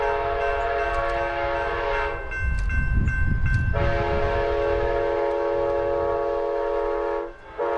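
An Amtrak non-revenue test train led by Siemens SC-44 Charger locomotives passes close on Raton Pass along the Southwest Chief route, with a long sustained multi-tone horn chord blaring over the loud rumble of the train, which continues after the horn stops.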